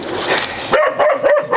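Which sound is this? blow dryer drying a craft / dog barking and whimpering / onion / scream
dog barking and whimpering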